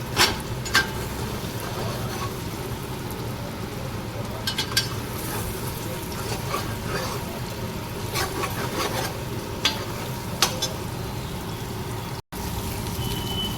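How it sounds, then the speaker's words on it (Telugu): Eggs frying in a pan for egg fried rice, a steady close sizzle running throughout with occasional scrapes and taps of a spatula against the pan. "సరిపడా గుడ్లు వేసుకున్న తర్వాత మంచిగా ఫ్రై చేసుకోవాలి"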